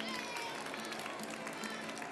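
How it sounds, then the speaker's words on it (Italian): An audience applauds steadily in encouragement for a beginner guitarist who has learned three chords, a dense even wash of clapping at moderate, somewhat distant level for a couple of seconds with no voices over it. "Fatemi un applauso di incoraggiamento."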